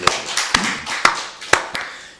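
A church congregation at a Wednesday worship service claps in a steady, even rhythm, about two sharp claps per second, ringing in a reverberant hall with no voices over it.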